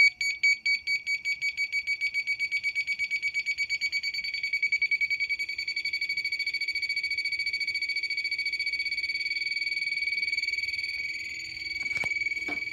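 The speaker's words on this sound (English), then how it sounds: "Got my little beeper." An electronic beeper gives a fast series of short, sharp beeps that merge into a steady high-pitched tone lasting several seconds. It is clear and fairly close, with no talking.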